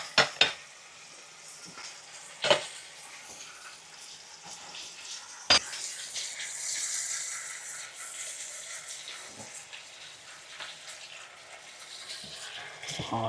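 Steak searing in butter in a home frying pan gives a steady, close sizzle, with a few sharp utensil clinks and scrapes near the start and again midway.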